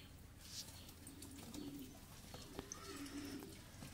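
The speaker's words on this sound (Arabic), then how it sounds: "انا ما كنتش متخيل ان في حمام كتير كده مالوش صحاب وطاير" Pigeons coo softly in a loft, low repeated calls faint beneath a steady background hiss with occasional chirps.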